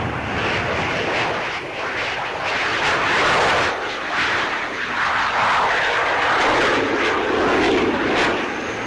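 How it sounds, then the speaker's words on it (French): Dassault Balzac experimental vertical-takeoff jet with one propulsion engine and eight lift engines, giving a loud, steady roaring whine that swells and shifts as it hovers nearby at the 1963 Paris Air Show at Le Bourget. "le Balzac est un avion expérimental à décollage vertical"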